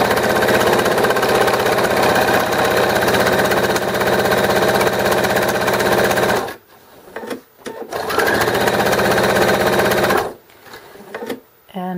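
A sewing machine runs in a steady, loud whir while stitching and back-stitching fabric for drool pads, stopping twice briefly with short gaps before starting up again.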